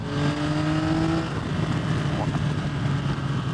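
A 2023 Yamaha XSR 900 motorcycle engine pulling hard under acceleration, a loud continuous drone with a rising tone, heard from the rider's position over heavy wind noise.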